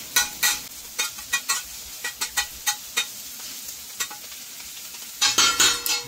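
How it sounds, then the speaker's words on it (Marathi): Onion frying in a pan with ginger-garlic paste for prawn masala, steady sizzle under a brisk run of spatula scrapes and taps against the pan, a louder burst of stirring near the end, close by with no talk. "तर आता कांदा भाजत ठेवला आहे आणि त्याच्यात आता अद्रक लसूण पेस्ट टाकलं आहे."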